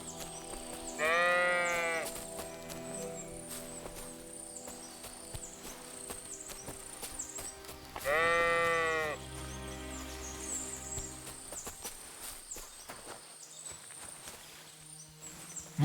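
Sheep in the medieval countryside of the video game Kingdom Come Deliverance II bleat twice, each a loud, wavering cry a few seconds apart, over soft footsteps and ambient game sound with no talk.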